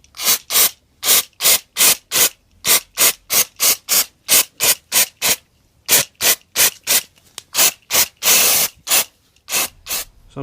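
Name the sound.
spraying brake cleaner onto brake shoes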